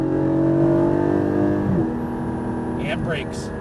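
A Porsche Cayman GT4 engine revs and pulls hard on a track, a loud droning tone shifting pitch through gear changes, with talk over it.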